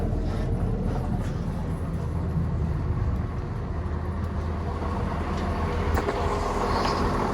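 A train rumbling past at Marylebone station in London at steady volume, low continuous drone with rattling, no voices.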